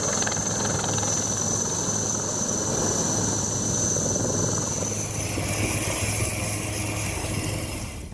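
A helicopter drones steadily with a continuous rotor and engine roar and a high whine, loud and unbroken, with no voices.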